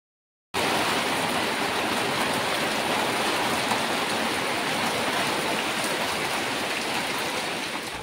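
Sudden heavy rain falling steadily outside a village home at night, a dense continuous wash of drops that starts abruptly and stays loud throughout, with no voices.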